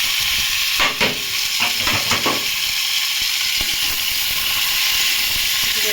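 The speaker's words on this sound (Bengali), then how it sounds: "নাড়াচাড়া করে শুধু ভাজবো" Potato and cauliflower fry in hot oil with cumin seeds and green chillies, a steady close sizzle broken by a few scraping stirs of a spatula early on, with no voices.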